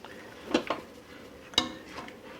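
Boiling muscadine jelly with pectin is stirred in a pot, a few soft scrapes and light clinks of the spoon over a low bubbling hiss, close and fairly quiet.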